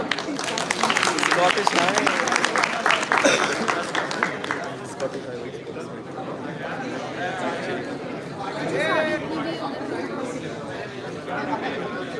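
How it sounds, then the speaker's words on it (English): An audience applauds and cheers loudly for a dance team, Team Mudra, at a school cultural event. A dense burst of clapping fades after a few seconds into crowd chatter. "A huge round of applause for Team Mudra"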